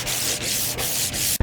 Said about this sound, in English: Block sanding 1950s steel, the same devotion applied to any surface anywhere.